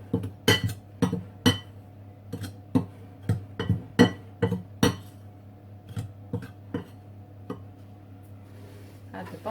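Plum cobbler batter ingredients are stirred together in a bowl, producing a series of irregular clinking and tapping strokes of a utensil against the bowl, close and fairly loud over a low background hum.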